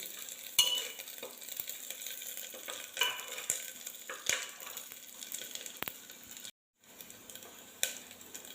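Whole spices sizzle and crackle in hot oil in a pan while being made into mushroom soup; a steady, fairly quiet hiss runs throughout with sharp stirring clicks and scrapes, and a brief dropout near the end.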